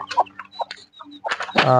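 Chickens cluck in short, close, uneven bursts on a small poultry farm with chicks, ending in a louder squawking flurry.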